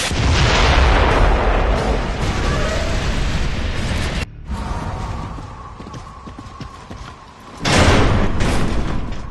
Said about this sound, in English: Mortars! The grubs are gonna flatten that house if we don't stop them!